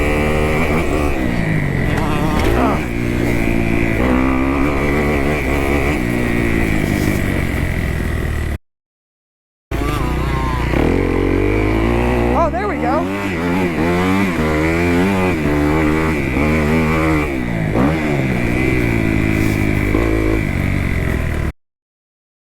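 A dirt bike races around a motocross main track, its engine loud and close, revving up and down through gear changes with one brief break before the roar resumes.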